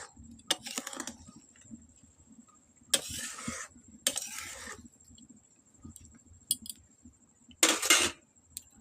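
Potol sundori frying in a pan, with a metal spoon scraping and stirring in several sharp bursts between quieter stretches and a faint steady sizzle underneath, close up.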